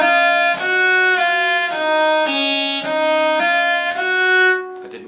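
A bowed string instrument plays sustained notes in slurred pairs with an unchanging bow speed. The tone is loud, close and smooth, and the pitch shifts step by step with no talking.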